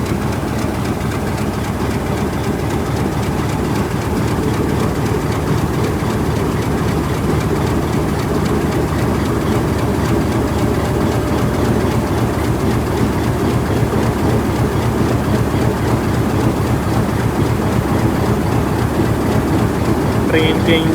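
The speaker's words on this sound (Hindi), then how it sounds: "ट्रेन के इंजन और ट्रेन के डिब्बों का संगम हो चुका है" A diesel locomotive of the Mianwali Express idles and rumbles as it couples to its carriages at Lala Musa Junction, a loud, continuous mechanical drone with no break across the stretch.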